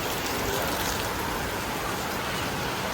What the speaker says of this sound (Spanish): a pesar de que esté cayendo toda la lluvia que está cayendo, están todos los chiringuitos funcionando con total normalidad